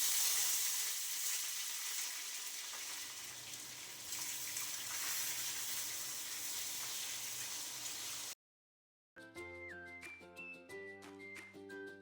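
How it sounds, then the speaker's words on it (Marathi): Washed bitter gourd pieces drop into hot oil in a kadhai and fry with a steady, loud hiss that fills most of the stretch, then a brief silence and a burst of music. "तेल आपलं छान तापलेलं आहे, त्यामध्ये आता जी धुवून घेतलेली कारली आहे ती टाकून देते"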